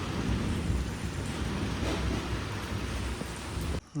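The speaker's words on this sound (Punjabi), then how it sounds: "ਵਿੱਚੇ ਬੱਦਲ ਘੋਰੀ ਜਾਂਦਾ" Steady heavy rain with a deep, continuous rumble underneath, filling the whole stretch before cutting off abruptly near the end.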